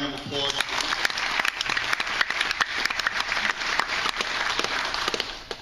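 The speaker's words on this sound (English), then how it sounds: "How about a nice round of applause?" An audience at a University of Notre Dame event gives a round of applause, dense clapping that runs steadily for several seconds, with a voice faintly over it.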